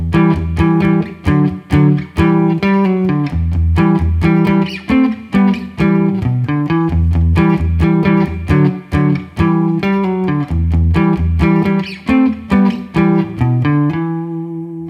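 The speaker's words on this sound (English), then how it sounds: "First, I want to go over what this backing riff sounds like on its own." Electric guitar playing a quick backing riff of two-note chords at about 127 beats per minute, in an E pentatonic style; steady, punchy strummed rhythm heard alone and up close, with the last chord ringing out and fading.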